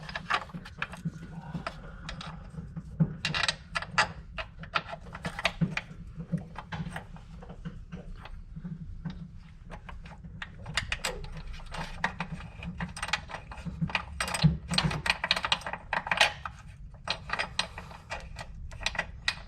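Ratchet wrench tightening nuts during an AVID 2-inch lift kit install on a Jeep Renegade, bursts of rapid clicking ratchet strokes with brief pauses, close to the microphone, joined by occasional metallic clinks.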